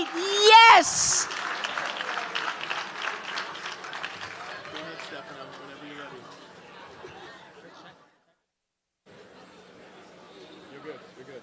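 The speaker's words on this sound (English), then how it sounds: "Let's have a big round of applause, everybody." An audience at the Flutie Foundation's Rock and Raise for Autism gala applauds with scattered cheers and chatter, loudest at first, then gradually fading to quiet murmuring.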